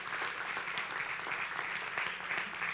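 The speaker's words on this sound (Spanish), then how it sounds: "Yo quiero que recibamos con un aplauso" Church congregation applauding, a dense, even burst of clapping heard at moderate distance without talk.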